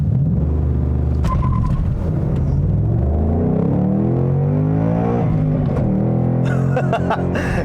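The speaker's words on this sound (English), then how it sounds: "It just sounds like thunder from the exhaust." Rumbling V8 exhaust from a 2020 Ford Mustang Bullitt with a manual gearbox, revved up to around 3,000 rpm, a deep, steady, close growl that swells and settles.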